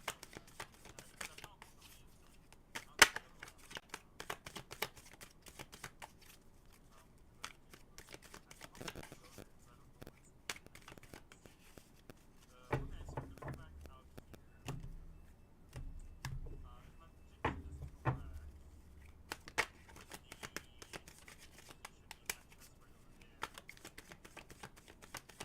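Tarot cards are shuffled by hand in quiet, irregular bursts of soft riffling and tapping, faint and close, with a denser stretch in the middle.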